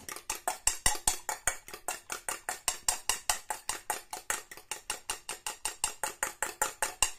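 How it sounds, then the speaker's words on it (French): Egg white for a homemade natural anti-wrinkle face mask is whisked briskly in a bowl, producing a fast, even train of sharp clicking and scraping strokes, about four per second, close and steady throughout. "Enfin, on fouette."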